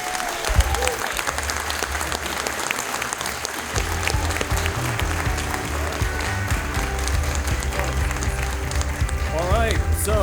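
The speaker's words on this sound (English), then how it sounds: "So please give them both a round of applause as they leave the stage." Audience applause at a graduate student association endorsement election meeting, steady clapping filling the room for about ten seconds with crowd murmur, chatter and a low rumble mixed underneath.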